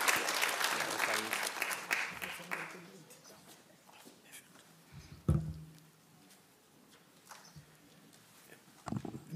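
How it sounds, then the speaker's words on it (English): Applause at a live-streamed annual lecture fills the first few seconds loudly, then fades into scattered claps and room noise with a few sharp knocks. "I would like us to do the round of applause"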